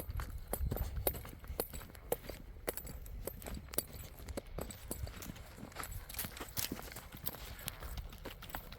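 Paso gelding hooves clip-clop at a steady walking pace on hard ground, distinct knocks repeating throughout with a faint outdoor background.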